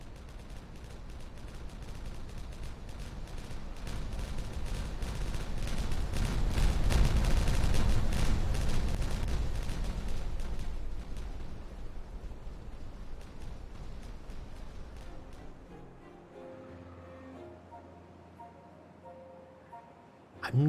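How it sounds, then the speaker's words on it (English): Explosion sound effect from the video game Timberborn, a long rumbling blast that swells into a dense roaring crackle, peaks, then decays over several seconds before a quieter tonal in-game sound takes over. "I'm not sure about the new explosion sound effect."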